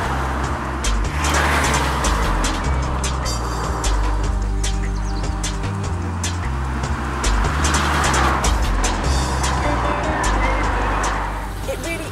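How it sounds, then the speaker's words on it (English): A Seat hatchback with a V5 engine is driven hard, its engine growling loudly and continuously up close, with gear changes and surges in revs throughout. "You can push it hard in every gear and hear the growl of the V5 engine."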